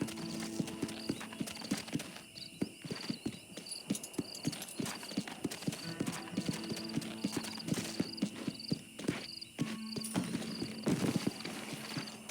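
Horse hooves clip-clop at a walking pace on the ground in the Red Dead video game, steady and fairly close, with a brief whinny and some ambient game sounds in the background.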